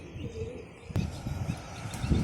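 Pigeons coo softly in a low, repeated murmur while young birds are taken out of their loft, with a sharp knock and some handling noise breaking in partway through.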